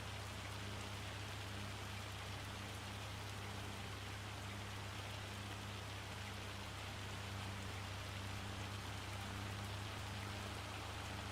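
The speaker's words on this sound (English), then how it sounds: "Hopefully this hail isn't around for too long" Hail pattering down in Farming Simulator 25 on the Riverbend Springs map, a dense, even wash of impacts over a low steady hum, constant and unbroken with no voices.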